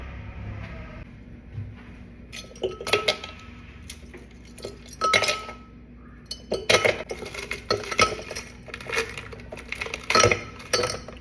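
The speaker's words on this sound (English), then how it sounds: "We take out the ice and fill the glass to make sure our drink is nice and cool" Ice cubes clatter into a glass while an iced coffee soda is prepared: sharp, bright clinks arriving in scattered bursts with short quiet gaps between, close and fairly crisp.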